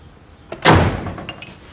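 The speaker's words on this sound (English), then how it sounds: "Did you hear the front door, miss?" A front door swings shut with a single solid thud, preceded by a faint latch click and followed by a short rattling decay, close and loud in a quiet room.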